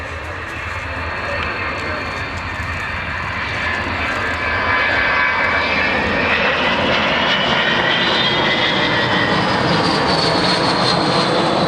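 Avro Vulcan bomber jet engines at an air display at Waddington, a loud, continuous roar with a rising howl that swells and holds steady throughout, with no voices.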